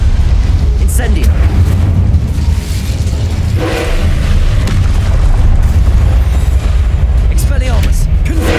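Fire spell cast in the Hogwarts Legacy video game, a loud sustained rumbling whoosh of flames with boomy bursts, set among continuous game combat effects.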